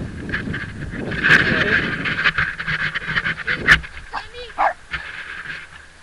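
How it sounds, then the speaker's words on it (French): Dogs in a pack following a cyclist on a grassy cyclo-cross course, heard as close, loud panting and scattered yips rather than sustained barking, with a voice speaking over them. "je suis suivi par une meute de chiens"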